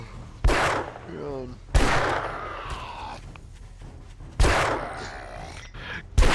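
Gunfire in the zombie survival game 7 Days to Die, console version: three sharp, loud shots spaced a couple of seconds apart, each with a ringing decaying tail, plus a fourth starting at the end.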